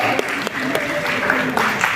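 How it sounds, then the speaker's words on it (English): Audience at a press conference for The Lord of the Rings: The Rings of Power applauds, a steady spread of clapping hands lasting about two seconds, with voices mixed in beneath. "Ladies and gentlemen, big round of applause for Sushant Sriram."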